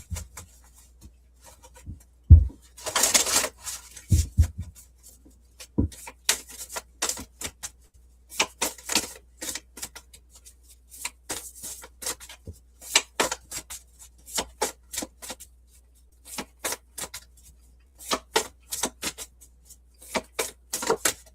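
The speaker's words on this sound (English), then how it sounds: "Now, you see me shuffle those cards, right?" Tarot cards being shuffled by hand at close range, a series of crisp papery riffles and taps in irregular bursts with short quiet gaps between them, no talking over them.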